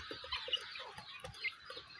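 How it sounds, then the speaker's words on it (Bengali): Several hens and roosters, black ones among them, cluck softly in short, uneven bursts close by, with a quiet background hiss and no speech. "এই যে এগুলো হচ্ছে কক মুরগি, এই যে কালোরও কক মুরগি।"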